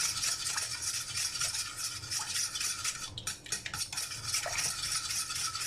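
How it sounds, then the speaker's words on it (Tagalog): Bibingka batter of coconut milk, eggs and sugar being stirred in a bowl, a steady close scraping and swishing of utensil against the sides, continuous throughout with no talking. "So, haluin lang natin ang haluin na hanggang maging"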